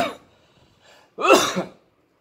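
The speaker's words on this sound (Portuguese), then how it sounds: "E vou espirrar de novo." A single sharp sneeze caused by a dust allergy bursts out close and loud, preceded by a short breathy intake and faint throat sounds.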